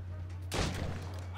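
Ship cannon fires during a naval battle in Assassin's Creed Rogue, a single loud booming blast that cuts in midway over a low steady engine-like hum.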